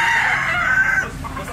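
A Kelso gamecock rooster crows loudly and nearby, one drawn-out cock-a-doodle-doo that fades out after about a second, followed by quieter farmyard background.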